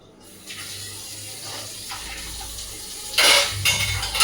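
Water drains and trickles from freshly washed green chillies sitting in a basket in a home kitchen. The sound is a steady, close splash that swells into a louder gush near the end.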